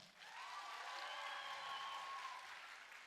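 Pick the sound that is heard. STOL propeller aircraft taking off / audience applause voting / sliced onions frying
audience applause voting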